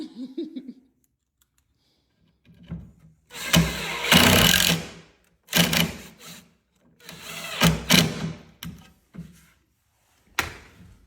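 Pocket holes being drilled into cabinet wood for laundry room cabinets and shelves. Several close, loud drilling bursts of a second or two each, separated by short pauses and quiet handling noises.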